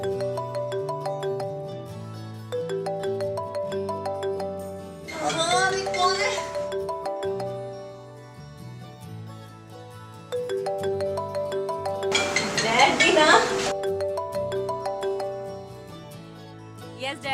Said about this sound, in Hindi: मैं मैंडी को फोन करता हूँ।